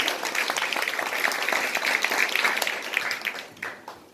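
Applause from an audience for Hwang Kyo-ahn at a gathering, a dense steady patter of many hands that holds for about four seconds and thins toward the end.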